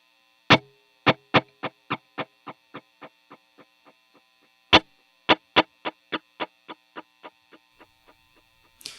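An electric guitar played through a NUX Tape Echo pedal, reverb only with the delay off, gives two runs of sharp, evenly repeated plucked notes that fade step by step, heard close over a faint steady hum.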